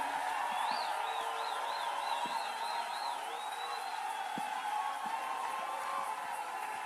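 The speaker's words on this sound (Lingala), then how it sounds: "Tu peux pousser des cris de joie, des cris de joie." Worship congregation at Béthel Arena cheering and shouting for joy, a sustained wash of crowd voices and whoops with high ululating cries, steady and fairly distant throughout.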